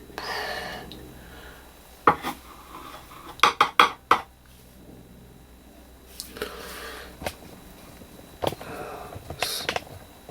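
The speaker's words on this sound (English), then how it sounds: "So let's see if we can scrape a bit." Hand scraping of grimy gunge off an Audi TT window mechanism: scattered metallic scrapes and clicks, a quick cluster in the middle, close up amid quiet breathing.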